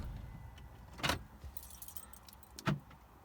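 Keys jangle twice, in two short distinct bursts, as an Audi 4.2 FSI car is switched off, quiet and close, with faint rustling between the bursts.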